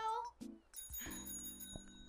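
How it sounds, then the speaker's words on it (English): Small cartoon bell from Steven Universe chimes in a few bright, ringing strikes, with talk heard faintly at the start. "The little bell."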